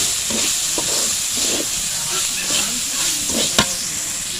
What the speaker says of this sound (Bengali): তো এই যে আমাদের শুটকি মাছগুলো কিন্তু দেখুন কষিয়ে নেব এখন।